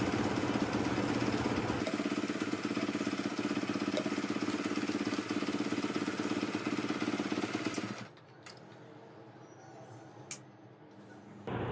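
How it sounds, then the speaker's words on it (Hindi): A motorcycle engine idles loudly and steadily nearby, running despite water poured into the cap, then cuts off abruptly, leaving quiet with a couple of faint clicks. "बाइक कैप में पानी डालने के बाद भी स्टार्ट हो रही है"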